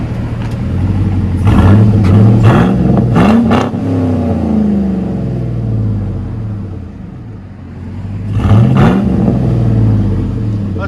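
Chevy Silverado pickup with a 5.3L V8 and COBB exhaust, heard from inside the cab while driving: a loud, deep engine drone that swells with two revving surges early on and another near the end.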